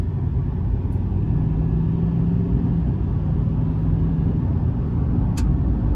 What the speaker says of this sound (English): So when I put my foot into it, it pulls from the turbos